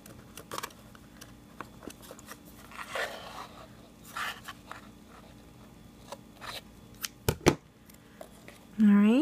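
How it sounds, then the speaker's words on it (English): Dull scissors snip and crunch through paper in short, scattered cuts, with rustling handling noises in between, close up in a quiet room. "it really helps if you have sharp scissors, which currently I do not have"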